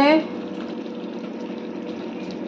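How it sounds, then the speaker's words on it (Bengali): Chicken kosha slow-cooking in a pan gives a steady, even sizzle with a soft bubbling hiss that carries on unbroken, after a brief voice at the very start. "এই দেখো, রবিবারে চিকেন কষানো হচ্ছে।"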